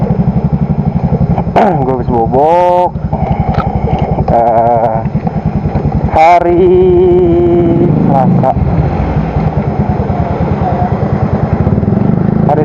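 A customised motorcycle rumbles close by with a loud aftermarket exhaust. It idles in a steady pulse with brief revs, and someone talks over it.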